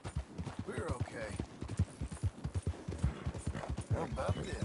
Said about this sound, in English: Ain't you a good horse?